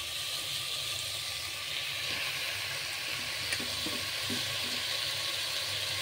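Malabar spinach (pui shaak) hitting a hot pan, giving a steady, broad hiss and sizzle that holds level for several seconds, close and with no talk.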